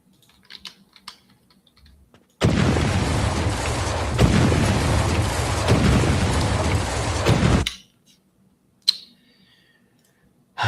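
A Panzer projectile explosion effect for a game animation: one loud, sustained rumbling blast of about five seconds that cuts off abruptly, set between quiet stretches with faint clicks.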